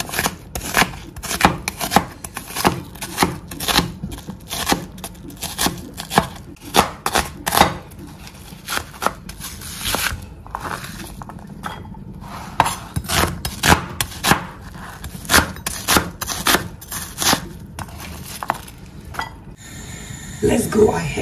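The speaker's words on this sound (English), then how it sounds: "So the red onion and the shallots, we will chop them in smaller pieces." Red onion and shallots chopped with a knife on a board, a long run of close, sharp, uneven chops in quick bursts, with a voice heard faintly between them.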